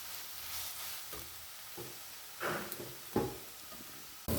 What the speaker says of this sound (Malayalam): മത്തി ഞാനിവിടെ ഫ്രൈ ചെയ്തുകൊണ്ടിരിക്കും